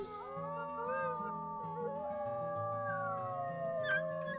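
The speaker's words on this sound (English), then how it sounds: "Do we howl with everybody?" Several wolves in the video game WolfQuest howl together in a pack. Long, overlapping wavering tones rise and fall over a steady game music bed for about four seconds.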